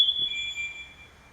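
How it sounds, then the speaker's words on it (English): A firefighter breathing tank's low-pressure alarm rings out as a single high-pitched electronic tone, sharp, piercing and steady, then fades within about a second. "So the one bell you heard it's a low pressure alarm."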